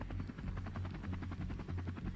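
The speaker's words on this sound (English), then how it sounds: "once loaded, the helicopters depart as a group or in staggered formation toward the objective area." Several military helicopters lifting off after loading troops, a steady close rotor thrum with rhythmic blade chop and a continuous high whine running throughout, no talk.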